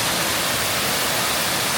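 An indoor waterfall and flowing water streams inside a large outdoor-goods store, a dense, steady rushing wash of falling water, close and continuous with no other sounds standing out.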